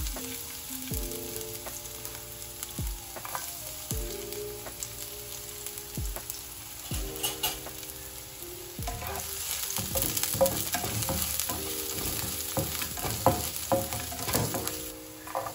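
Garlic hits hot oil in a pan for Filipino cooking, giving a steady crackling sizzle with repeated scraping and stirring strokes, close and moderately loud, with no talking.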